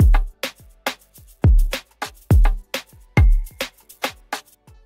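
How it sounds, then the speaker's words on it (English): Snare drum layered into an Afrobeat groove over deep kick hits, sharp bright cracks falling between the booming kicks in a steady, syncopated pattern, with faint melodic tones beneath and no voices. "Next we got this snare."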